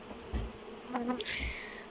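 Swarming honeybees buzzing nearby in a busy drone, with a few individual insects whining past close to the ear.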